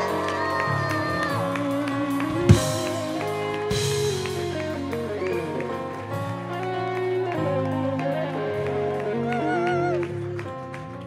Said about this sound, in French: Sous vos applaudissements très chaleureux, accueillez Ray.